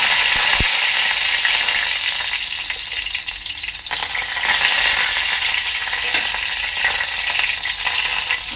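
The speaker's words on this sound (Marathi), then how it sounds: "तेल चांगलं गरम झालेलं आहे आता मी टाकणार आहे कढी" Curry is poured into a pan of hot oil, several ladles' worth, and sets off a loud, continuous sizzle and crackle that stays close and strong throughout, with faint metallic scraping and no speech.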